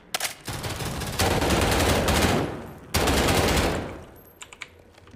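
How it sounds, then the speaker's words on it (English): Rapid automatic assault rifle fire in the game Garry's Mod, in two long loud sustained bursts separated by a brief gap, then a few scattered shots trailing off. "You're using an assault rifle."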